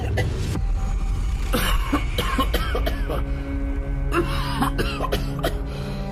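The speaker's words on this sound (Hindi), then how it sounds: "तभी उसका दम घुटने लगता है और वो जोर जोर से खांसने लगता है।" A man chokes and coughs loudly in a rapid series of harsh, close coughs and throat clearing, with some strained vocal sounds in between.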